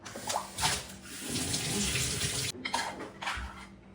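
Tap water runs steadily over a child's water bottle being washed in a sink, with a continuous splashing rush, brief clunks of the bottle and a short pause midway; close and loud, with no talking.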